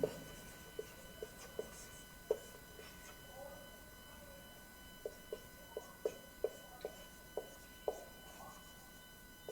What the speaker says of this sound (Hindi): देखिए लिखते हैं इसको